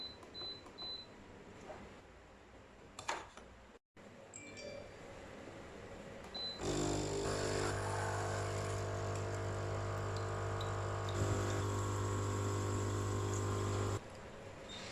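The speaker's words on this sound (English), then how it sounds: "press the extraction button to clean with water" H2B coffee machine pumping water through for cleaning, starting with a few clicks and button beeps, then a loud steady pump hum with a high whine for several seconds that stops abruptly.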